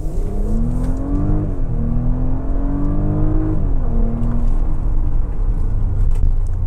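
A Porsche Cayenne E-Hybrid with 462 hp accelerates hard in Sport mode, its engine note climbing steadily in pitch, dipping briefly at gear changes and rising again, loud and continuous, heard from inside with no talking.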